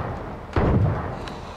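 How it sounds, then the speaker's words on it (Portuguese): A single heavy gunshot from H1Z1 booms mid-clip with a dull thudding body, followed by a fainter echoing crack and lingering low rumble; no talk. "Que tiro foi esse?"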